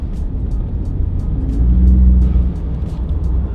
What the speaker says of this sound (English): it has a little tss to it. It makes a little hissing noise